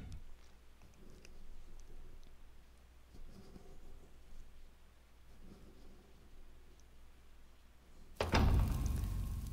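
A heavy prison door in Fable Anniversary grinds open with a sudden loud scraping rush near the end, after a long stretch of quiet rain and distant rumbling ambience.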